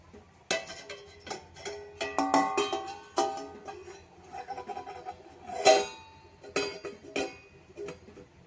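A steel plate clinks against a metal pressure cooker container as it is set in place over boiling water, with several sharp scattered metallic taps and rattles in an otherwise quiet kitchen.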